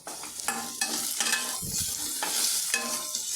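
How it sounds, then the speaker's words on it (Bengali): Potatoes with turmeric and salt fry in hot oil in a pan, giving a steady close sizzle with repeated scraping and stirring strokes throughout, and no voices. "আলু দেওয়ার সঙ্গে সঙ্গে এটি ভাজতে ভাজা ভাজা হতে শুরু করবে"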